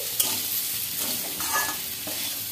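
Singara filling with fried peanuts cooking in a pan gives a continuous close sizzle broken by soft stirring scrapes, with no one talking.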